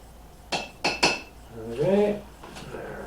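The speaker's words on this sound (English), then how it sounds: "we'll spread it out evenly in the bottom of the crock." Bacon and beans are spread in the bottom of a bean crock, with three quick close utensil clinks and scrapes followed by a brief voice.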